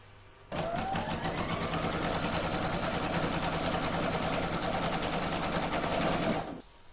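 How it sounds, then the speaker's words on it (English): An embroidery machine stitches a round on a fabric in-the-hoop scissor holder and pin cushion, a steady, fast mechanical whir that runs nonstop for about six seconds, close and loud, with no talking. "I'll pop that back in my machine and stitch round number 3 to secure it"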